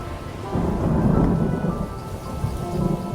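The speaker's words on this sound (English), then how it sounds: "looks like another storm coming" A thunderstorm sound effect from a radio drama: a dense, continuous wash of heavy rain under a low, rolling rumble of thunder that swells and then stays loud throughout.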